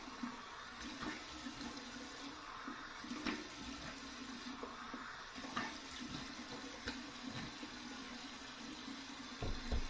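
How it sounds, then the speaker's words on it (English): Cold tap water runs steadily into a sink for a rinse after a straight-razor shave, a soft, continuous splashing flow heard alone at moderate distance with small irregular spatters. "Cold water rinse."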